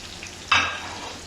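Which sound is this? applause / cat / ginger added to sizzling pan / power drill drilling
ginger added to sizzling pan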